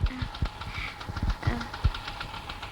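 A scooter engine idles and runs close by, a steady mid-pitched putter with knocking pulses throughout a Tamil film scene, no voices heard over it.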